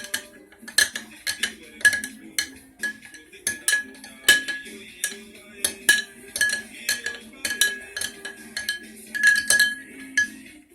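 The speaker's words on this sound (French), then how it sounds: "Vous allez mélanger cela jusqu'à ce que le mélange devienne homogène." A utensil stirring a honey mixture in a bowl until smooth, regular clinking and scraping strokes against the container, close up, repeating steadily at roughly one stroke per second without speech.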